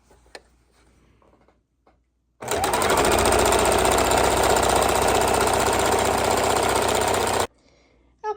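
A sewing machine stitches slowly through 12 quilted layers for a book bag, a loud, steady mechanical whir running for about five seconds between quiet moments.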